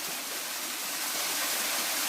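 Shallow water flowing steadily where it has been diverted into a channel on a hillside farm, a continuous close wash of rushing sound with no voices.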